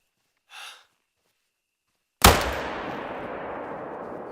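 A single loud, sharp gunshot from a scoped rifle in a video game, with a long rolling echo trailing off after a short breath-like sound earlier.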